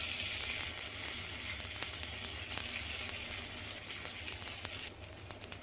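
Ragi bun dosa batter sizzles steadily on a hot pan, a close, continuous crackling fry with occasional small pops and no talking.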